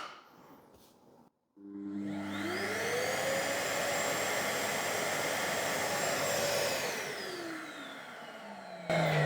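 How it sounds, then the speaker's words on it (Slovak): Vacuum cleaner plugged through a Parkside Performance PALS 50 B1 LED work light socket switches on after a click, spinning up to a loud, steady whine and roar, then winds down near the end. "Aktuálne som do štekra LED pracovného osvetlenia pripojil jeden vysávač."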